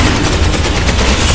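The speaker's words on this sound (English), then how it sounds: "Shooting them down as they come in." Rapid, dense gunfire from the video game Space Hulk Ascension, loud and continuous, with automatic weapons blasting without a break and no voices over the shots.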